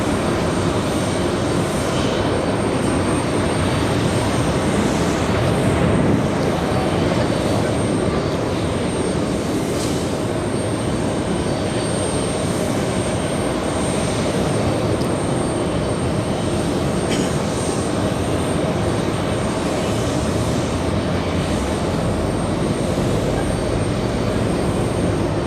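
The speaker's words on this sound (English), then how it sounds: "Next departure, we have American Airlines, a 737-800 flying to Chicago's O'Hare International." An American Airlines Boeing 737-800 departing JFK for Chicago O'Hare, its jet engines producing a loud, sustained roar that stays constant and close for the whole stretch, with no talking over it.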